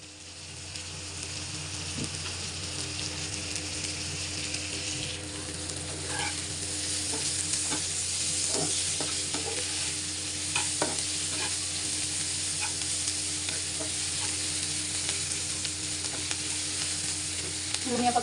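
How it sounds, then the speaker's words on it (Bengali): Coriander and spring onion leaves sizzle steadily in a hot frying pan while being stirred, with scattered scrapes and clicks of the utensil over a constant loud frying hiss, no talking. "ধনিয়া পাতা দিয়ে নেড়ে চেড়ে আমি মাছগুলো দিয়ে দিব।"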